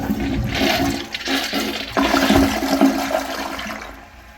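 An American Standard Cadet Pro toilet flushes loudly up close, a rushing surge of water that swirls, gurgles and tapers off as the bowl refills.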